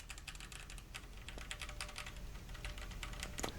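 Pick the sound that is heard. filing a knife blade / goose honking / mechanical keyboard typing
mechanical keyboard typing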